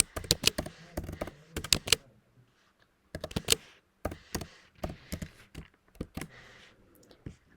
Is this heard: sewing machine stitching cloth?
no